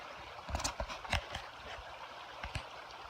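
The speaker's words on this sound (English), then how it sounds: "we've got to put our Crocs on and walk through the water" Feet in Crocs wading through a shallow creek on a Maine trail ford, with soft irregular splashes and sloshing steps over quiet flowing water, fairly faint.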